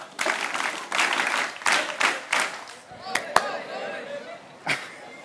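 A group claps together in an outdoor chant drill at a Run for Swadeshi event, sharp sharp bursts in a steady rhythm with voices calling between them, then a few isolated claps.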